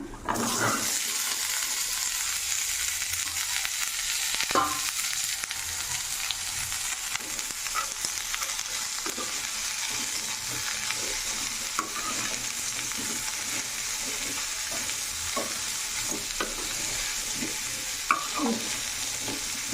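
Bangalore brinjal pieces frying in a pan on medium flame, a steady loud sizzle with occasional scraping stirs throughout, no voices.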